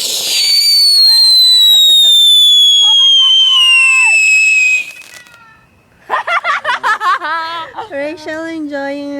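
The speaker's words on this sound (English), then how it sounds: "enjoying the fireworks" A Victoria Day fireworks display in Canada: a long, loud, falling whistle from a rising shell, then a lull before bursts of crackling pops, with people talking and laughing nearby.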